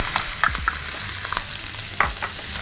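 Onions hit a hot pan already sizzling with browned ingredients, a steady loud crackle with sharp bursts of spitting and a few scraping stirs as they land.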